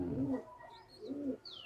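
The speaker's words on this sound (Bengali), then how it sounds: "দারুণ পায়রা।" A female pigeon coos softly twice in a short, low rolling rhythm, with a faint higher chirp between the calls and no talk.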